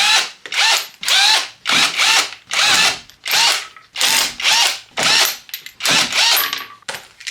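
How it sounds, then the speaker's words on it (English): An air ratchet fitted with a 21mm socket undoes the wheel nuts on a 2010 Mazda 2, loud close bursts of whirring rattle repeated about a dozen times with short gaps between, no talking. "we're using a air ratchet, 21mm socket to get the nuts undone"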